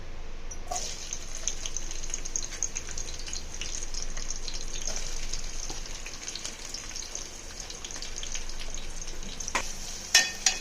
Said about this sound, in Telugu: ఆయిల్ కొద్దిగా వేడెక్కాక ఆనియన్ వేసుకుంటున్నాను